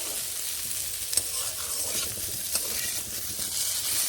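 Pumpkin pieces frying in a wok, a steady close sizzle with spatula stirring and a couple of sharp scraping clicks, no voices.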